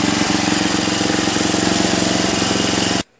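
Small single-cylinder engine of a 1981 Craftsman LTV10 Varidrive lawn tractor running steadily after its carburetor high-speed jet was adjusted, a loud, close, even throbbing chug that holds for three seconds and then cuts off abruptly.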